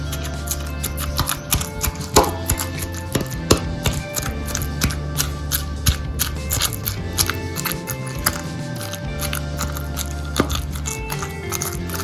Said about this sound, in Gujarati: હવે તેને આ રીતના ખાંડી લેશું એકદમ મિક્સ કરી લેશું